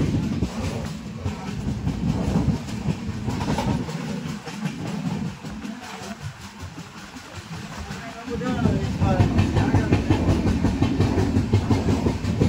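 A train rolls along near Kankavli with a continuous low rumble and rhythmic clattering wheels, heard close from on board, growing heavier toward the end.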